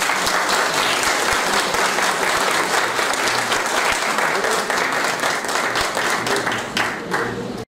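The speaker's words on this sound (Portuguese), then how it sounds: "também peço uma salva de palmas para a Andréa." A crowd at an academic induction ceremony of a Luso-Swiss academy of letters and arts applauds with sustained, dense clapping that holds steady and then tapers off abruptly at the end.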